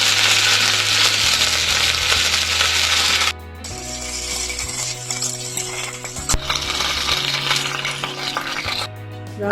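Fenugreek, dried red chillies and curry leaves crackle and sizzle loudly in hot oil, a steady dense hiss with scattered pops throughout, joined by a low continuous hum.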